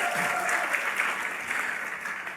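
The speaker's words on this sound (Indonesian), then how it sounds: "Beri tepuk tangan lagi buat Tuhan Yesus" Sustained applause fills a church worship service at GBI Pantai Permata in Batam, a dense, steady wash of many hands clapping together with no clear talk over it.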